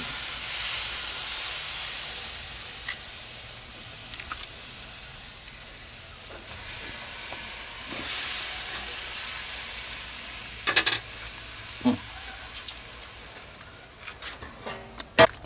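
A porterhouse steak sizzles on a grill with a steady hiss that swells and fades, punctuated near the end by sharp pops and crackles.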